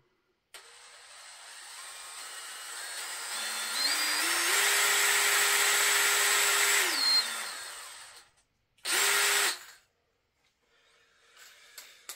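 A Dewalt DCD709 cordless drill whirs up to a steady whine at first speed, then climbs to a higher pitch at second speed before spinning down. A short second burst follows after a pause, close and loud with no talk.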